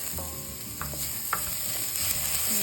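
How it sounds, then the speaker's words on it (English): Ginger and green chilies sizzling in a hot pan with oil and onion for restaurant-style aloo gobhi, a steady close crackle with a few light stirring clicks and no talk. "Now we add in our ginger and our green chilies."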